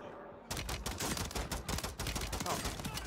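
Rapid bursts of automatic gunfire crackle in a shooter video game, starting abruptly after a half-second of quiet and continuing as dense overlapping shots, fairly faint overall.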